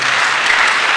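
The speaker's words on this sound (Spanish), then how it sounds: "Un aplauso, por favor." A lecture audience applauds to welcome the speaker at a Wetlands Day 2024 keynote talk: dense, steady clapping from many hands fills the whole second at an even, fairly loud level.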